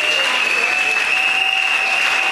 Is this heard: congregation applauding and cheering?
yes